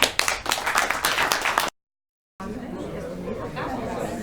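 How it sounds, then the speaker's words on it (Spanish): An audience at a literary event claps, brisk clapping with chatter mixed in, cut by a short silence, then a softer stretch of clapping and murmuring voices. "Y bueno, un aplauso, ¿no?"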